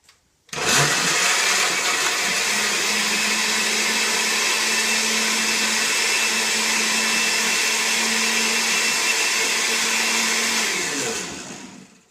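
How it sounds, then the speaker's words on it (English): Kitchen blender pureeing strawberries and water, a loud steady motor whine starting abruptly, holding for about ten seconds and then spinning down, heard close with no talking. "Now we're going to puree some strawberries and water together to make a mixture for"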